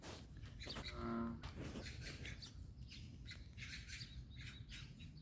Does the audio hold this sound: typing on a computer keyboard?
no